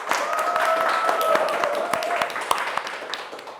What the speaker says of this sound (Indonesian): kasih tepuk tangan loh